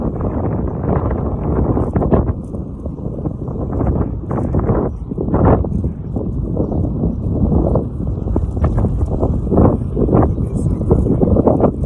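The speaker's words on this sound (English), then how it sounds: "pretty windy today, so you gotta hang on to it." Strong wind buffets close against the microphone in continuous rumbling gusts, with muffled talking mixed in.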